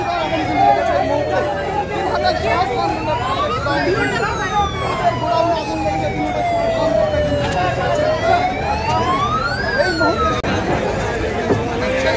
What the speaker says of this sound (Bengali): আসার পর কিন্তু সেই দমকলের ইঞ্জিন